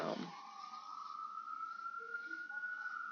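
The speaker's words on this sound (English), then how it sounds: "We hear the noise, the sirens." Sirens wail steadily in the distance, a faint sustained tone holding under a quiet background after a brief initial noise.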